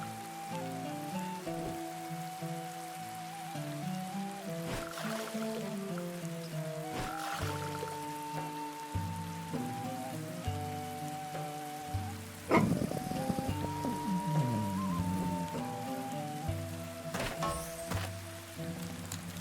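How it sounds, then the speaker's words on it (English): Rain patters steadily in the Viking survival game Dead in Vinland, a soft continuous hiss lying faintly beneath layered melodic game music with occasional brief louder swells. "I really don't want to do it while it's raining."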